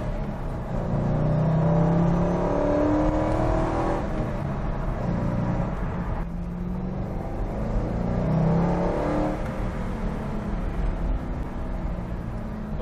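A 2002 Corvette C5 Z06 with a 405 hp engine accelerates hard, a loud sustained roar climbing through the revs, then easing and building again after a gear change, heard from inside or close by without talk.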